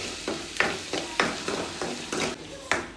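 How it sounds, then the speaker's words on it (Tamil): Ginger and garlic fry in a pan of leftover chicken oil, sizzling steadily while a spoon scrapes through them in regular strokes, about one every half second. "இப்போ சிக்கனை எடுத்து வச்சுட்டு இதுலேயே இஞ்சி பூண்டு போடலாம்."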